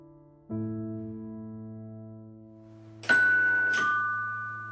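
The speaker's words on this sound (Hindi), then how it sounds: "तभी दरवाजे की घंटी बजी" A low sustained tone fills the background, then two bright chimes ring a second apart, like a doorbell, fading slowly.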